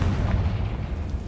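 A Confringo blasting curse from the video game Hogwarts Legacy erupts in a loud, sustained booming rumble, a dense low-heavy blast filling the whole moment with no voices over it.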